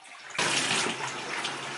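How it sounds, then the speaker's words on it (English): Water splashes and rushes into a bathtub as clothes are washed off-grid in a five-gallon bucket, a sudden loud burst that settles into a steady close pour. "this bathtub will like fill up with this nasty water"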